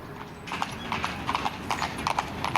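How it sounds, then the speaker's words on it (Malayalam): Hooves of horses pulling decorated carriages through a square in Kraków clip-clop in a steady, fairly quiet rhythm, with no talking over them. "ചെണ്ടുകളും തൊങ്ങലും ചാർത്തിയ കുതിരകൾ വലിക്കുന്ന വണ്ടികൾ ഈ സ്ക്വയറിലൂടെയും കടന്നു പോകുന്നുണ്ട്."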